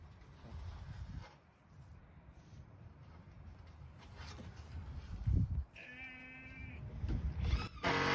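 A sheep at a farm shed gives a single clear bleat late on, standing out over faint rustling and low outdoor noise.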